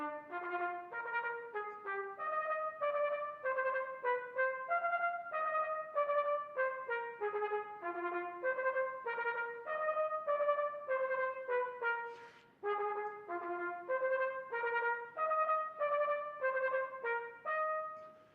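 A trumpet plays a fanfare-style triplet exercise, with bright repeated note groups moving up and down in a steady rhythm and a brief pause midway before the pattern resumes.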